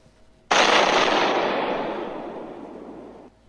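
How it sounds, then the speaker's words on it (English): A pipe bomb explodes on a road: one sudden loud blast followed by a long roaring rumble that slowly fades over about three seconds, with no voices. "As the pipe bomb tumbled onto the road, suddenly a huge explosion happens."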